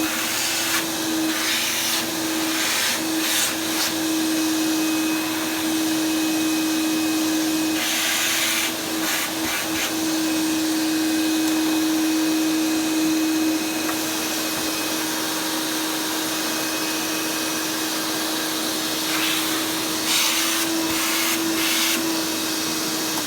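Vintage vacuum cleaner motor running steadily and loudly, with a constant droning hum and whine that holds throughout, marked by occasional brief hissing bursts of airflow.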